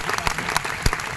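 Brief burst of crowd applause at a packed meeting, honoring a tea bottle: dense, steady hand clapping with a few sharper claps, lasting about a second.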